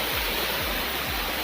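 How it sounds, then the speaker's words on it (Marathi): Strong water rushes steadily at Pandavkada waterfall in Kharghar, a dense, continuous roar that stays loud and close for the whole short stretch with no voices. "पाणी लय वाहतंय."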